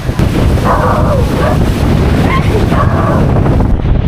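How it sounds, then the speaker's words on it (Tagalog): Strong typhoon wind battering a roof during Bayong Uwan, a loud continuous roar with gusting rush, while voices talk faintly underneath. "Lakas ng hangin"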